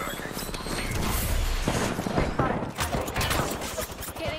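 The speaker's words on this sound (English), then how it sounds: "Getting shot at." Gunfire in the Apex Legends battle royale game, with dense rapid automatic bursts and clattering mechanical noise at close range, heavy at first and then thinning into scattered shots and impacts.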